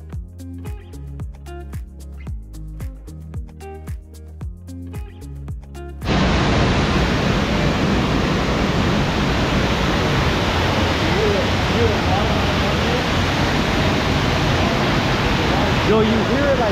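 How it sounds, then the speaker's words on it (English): Dry Falls in the Smoky Mountains pours down with a loud, constant rush of water that fills everything from about six seconds in, following a stretch of rhythmic music. "you can hear the water from the waterfall like right there."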